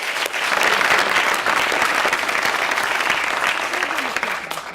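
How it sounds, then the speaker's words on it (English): Sustained crowd applause honors the competition participants at a tech conference prize presentation, dense clapping from a large audience that rises quickly, holds steady for several seconds, then begins to fade. "I'd like to ask that we give them all a round of applause."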